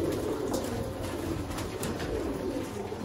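Sialkoti pigeons held for sale in Sialkot coo softly and steadily close by, a low murmuring coo repeated over a constant background hiss, with no talking.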